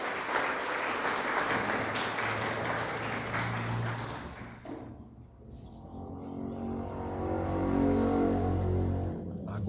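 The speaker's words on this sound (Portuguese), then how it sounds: "Dá uma salva de palmas para o Senhor aqui, para o Rubens." A church congregation applauds pastor Rubens during a service, a full, sustained round of clapping that fades midway and is followed by a low musical drone.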